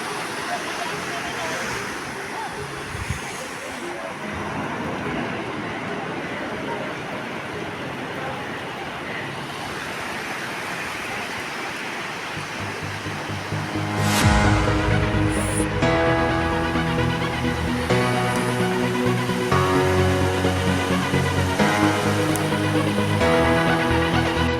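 Sea waves crash on the shore at sunrise on the coast on the cycling route from Jaleswar to Digha, a steady roar of surf filling the scene, joined midway by a louder engine-like hum.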